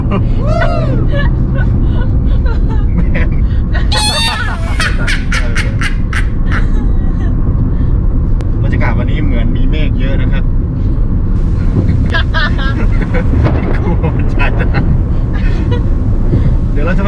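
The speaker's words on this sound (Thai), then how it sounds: "ขณะนี้ก็เราขับรถอยู่ครับ" A car travels along a road near Nong Kho, Chonburi, its steady, loud interior road rumble continuous throughout, with a voice speaking over it and brief horn-like tones partway through.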